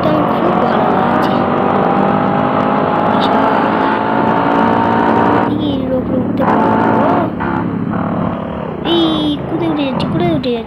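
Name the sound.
motorbike engine in India Bikes Driving 3D video game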